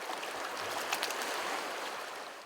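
Crystal Creek flowing through a ranch at Red Rock, a soft, steady wash of running water, faint and unbroken, with no voices.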